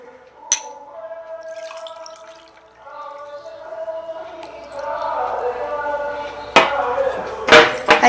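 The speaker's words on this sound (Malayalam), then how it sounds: "നമുക്ക് അതിലേക്ക് ആദ്യത്തെ ഗ്ലാസ്സിലേക്ക് പച്ചവെള്ളം ഒഴിക്കാം" Plain water poured into the first of two glasses, with a steady stream whose ringing tone rises as the glass fills, ending in a few sharp knocks.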